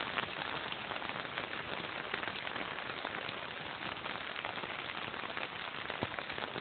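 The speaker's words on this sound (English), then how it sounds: "That's called rain." Steady rain pattering on surfaces, an even, continuous wash of drops with occasional sharper taps, no voices.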